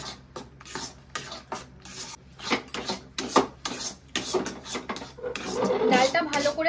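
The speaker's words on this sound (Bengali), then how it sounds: "এবারে দিয়ে দিচ্ছি বেটে রাখা ডালটা। আবারও ভালো করে মিশিয়ে নেব।" Ground lentil paste being stirred in a pan for potol dorma, repeated rough scraping and rubbing strokes in an uneven rhythm, close and fairly loud, with no speech.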